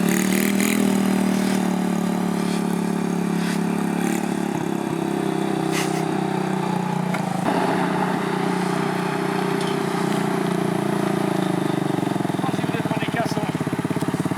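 A quad bike bought for 100€ runs with a loud, steady engine drone, its throaty low rumble close and continuous, with a few rough changes in pitch partway through.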